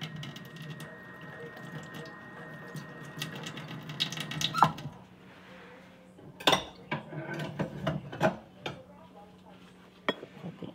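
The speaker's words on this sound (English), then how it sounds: "Gonna wash the knife." Running tap water splashes over a kitchen knife as it is washed, with scattered metallic clinks and knocks against the sink, faint and close.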